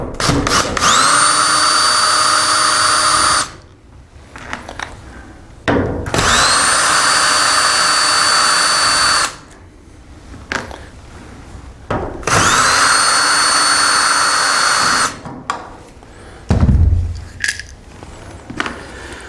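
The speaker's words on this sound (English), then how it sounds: "Be a little quicker if I use my drill." A power drill whirs in three sustained bursts of a few seconds each, removing four screws from a nest box perch popper, separated by short pauses with light handling clatter, close and loud.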